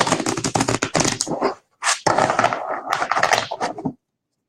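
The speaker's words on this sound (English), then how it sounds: "I'm going to shuffle the card again as we're talking." A deck of cards being shuffled close up, bursts of rapid riffling flutter and slaps in two quick runs separated by a brief pause, then silence.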